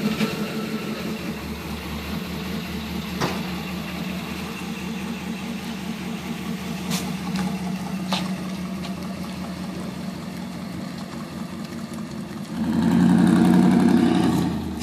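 Petrol American muscle car on the road, a deep, steady engine rumble at moderate distance that swells into a louder, rougher roar near the end.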